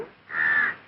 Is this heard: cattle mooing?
no